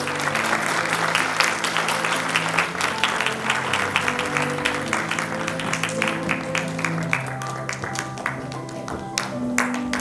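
A school audience at a centenary celebration of Liceul Barbu A. Știrbey in Buftea applauds a teacher, sustained brisk clapping with music playing underneath and scattered crowd noise.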